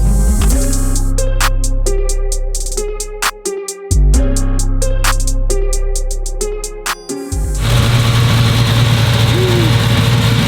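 A Nissan R34 GTR making over 1600 wheel horsepower idles loudly and close by with a rough, steady drone. Tonal, music-like notes come first, and the engine takes over near the end.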